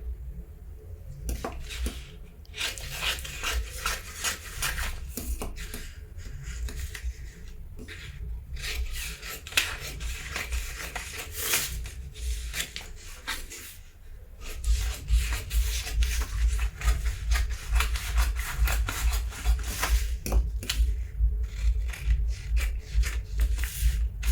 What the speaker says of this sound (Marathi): तर आता ही कटरी आपण ह्या मापन कट करणार आहोत